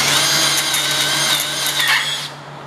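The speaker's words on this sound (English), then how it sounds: "We're gonna put that tap in a set of vice grips or another drill." A power drill spins loudly and steadily for over two seconds while working on a tap from a cracked transmission of a 1971 Gravely 432, then winds down abruptly, with no voices.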